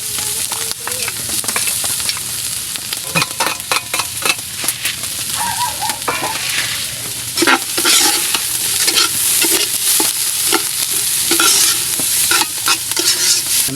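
Garlic sizzling in hot oil in a pan, with frequent scraping and clinking strokes of a spatula stirring it, close and fairly loud, and the frying hiss continuing between strokes.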